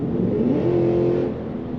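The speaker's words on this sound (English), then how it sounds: "When you get on that throttle, there's a nice rumble," A 2023 Cadillac Escalade ESV V-Series engine rumbles as the throttle opens, a loud deep tone rising in pitch over a brief moment, then holding steady before easing off.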